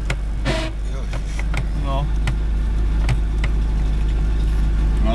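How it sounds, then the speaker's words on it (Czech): Fiat 600 car on a test drive, heard from inside as a steady low engine drone with rattling and clicks, while a person speaks briefly over it. "Zkušební jízda Fiatu."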